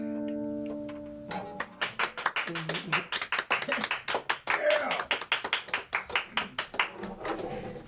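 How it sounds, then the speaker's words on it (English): Several people clap in quick, uneven bursts at an indoor gathering, with voices talking among the claps after a brief tone at the start. "The clapping disturbs the dogs."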